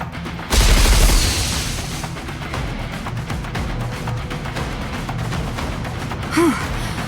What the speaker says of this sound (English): Missile container online. Firing missiles now.